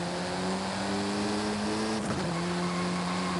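Car engine and exhaust in Forza Horizon 5, a sustained loud droning rumble with steady harmonic tones, briefly shifting pitch midway as if between gears, with no talk over it.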